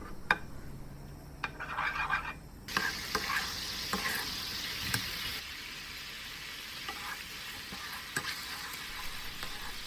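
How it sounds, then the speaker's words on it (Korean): Garlic, chili and seasoning sauce bubble and sizzle in a lightly oiled frying pan, with steady broadband frying noise, occasional stirring clicks and utensil taps, and a busier start before settling into an even simmer. "기름을 약간 두른 팬에 양념 소스와 마늘, 고추를 넣고 졸여주세요."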